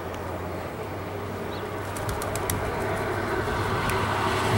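Racing pigeons at a pigeon-sport release make a steady, close wash of flapping wings, with faint cooing and bird calls mixed in and a brief patter of higher chirps midway.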